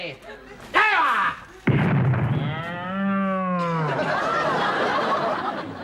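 A cow moos loudly and close in a long, drawn-out bellow, preceded by sharp comedic bangs and a brief voice, on a comedy sketch soundtrack.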